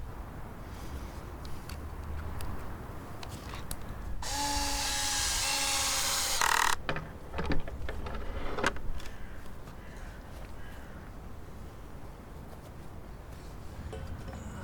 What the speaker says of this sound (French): Pour les autres trous, tu n'effectueras qu'un pré-perçage.